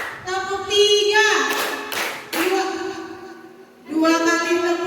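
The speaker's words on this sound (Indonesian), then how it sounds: "Sekali lagi, tepuk 1, tepuk 2, tepuk 3," A group claps together in a counted clapping game led by a teacher. A burst of hand claps falls between stretches of a woman's spoken instructions.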